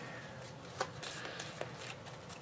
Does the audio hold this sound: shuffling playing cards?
yes